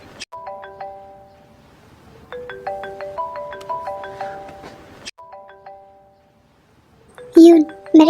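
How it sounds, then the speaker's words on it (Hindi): A mobile phone rings with a bright chiming tone, repeated melodic phrases fairly close and clear, then a short burst of voice at the end. "मेरा फ़ोन रिंग कर रहा है"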